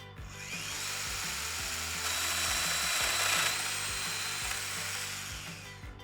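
Domino joiner plunging angled mortise pockets into wood, its fence set to 82 degrees: a steady, loud, high motor whine with buzzing cutter tone, running continuously close up with no talk.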